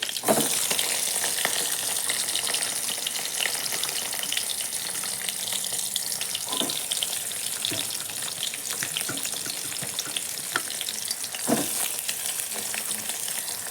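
Mustard seeds and spices splutter in hot oil as garlic cloves and onion go into the pan, a loud, continuous close-up frying hiss with occasional stirring clatter and no talking.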